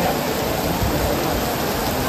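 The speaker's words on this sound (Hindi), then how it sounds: "बारिश आने लग गई बहुत ज़ोर से" Heavy rain pours down at a Rajasthan temple, a dense continuous hiss of water on surfaces that stays loud and even throughout.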